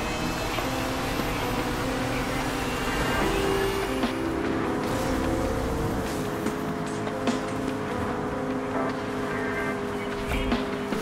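Race car engines in the video game Need for Speed Rivals, a continuous high engine whine and roar with rising and shifting pitch and sharp transient clicks during the race, loud and close throughout.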